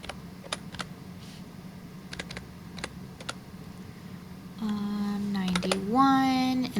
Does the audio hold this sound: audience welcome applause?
no